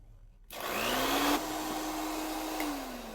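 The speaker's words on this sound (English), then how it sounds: "Now, I'll grab my mixer. I'll beat the egg whites until they form stiff peaks." An electric hand mixer switches on abruptly and whirs steadily while beating egg whites in a bowl, a loud high motor drone with a slight pitch shift, running alone without talk.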